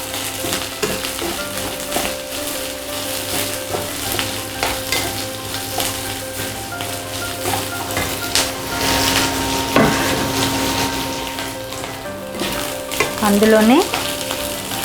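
Chopped capsicum and green chillies fry in hot oil in a pan for chilli chicken, hissing steadily while a spoon scrapes and clacks against the metal. A word or two is spoken briefly over the close sizzling.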